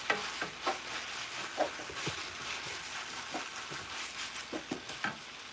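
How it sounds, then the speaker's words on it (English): Food stirred around in a frying pan on low heat during home cooking, a soft scraping shuffle with scattered spoon knocks over a steady faint sizzle, no voices. "So we're gonna give it a nice stir around."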